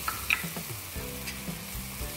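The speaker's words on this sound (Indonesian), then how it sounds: "Terus kita tumis lagi sampai benar-benar wangi dan matang." Chili paste sautéing with salt, sugar and palm sugar in a pan, a soft, close sizzle with a few light scrapes of a spatula, no voices.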